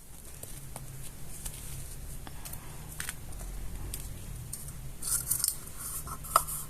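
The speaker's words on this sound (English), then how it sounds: "now let's cut the other part of the Yakult" Scissors work through a thin plastic Yakult bottle in a series of faint, quiet snips and scraping rasps, with a few sharper crackling cuts near the end.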